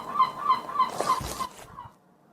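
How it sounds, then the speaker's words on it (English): A bold seagull calls close by in a North Pole setting, a run of rhythmic repeated cries tapering off, followed by a brief thump and rustle. "So, a cheeky bold seagull flew in."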